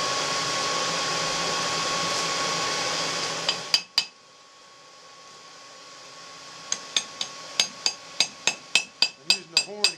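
Heated iron tines for a cooking iron hammered on an anvil horn, a roaring forge or blower first, then a run of about a dozen sharp, ringing hammer blows in a steady rhythm, close and loud.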